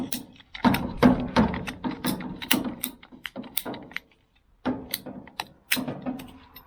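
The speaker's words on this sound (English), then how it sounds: "I have marked where I want to cut the 1-inch poly tube with a mark here." Cutting 1-inch poly tubing for a rainwater pump system, a run of sharp ratcheting clicks close by, pausing briefly before resuming.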